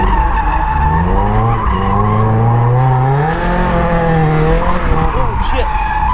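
A Ford Fusion engine-swapped Mazda Miata drifts after a clutch kick, its engine roaring loud and close while tires squeal in long, wavering skids that rise and fall, continuous for several seconds.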